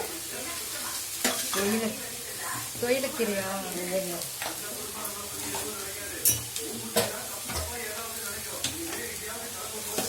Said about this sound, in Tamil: இப்போ வந்து நல்லா கிளறிக்கோங்க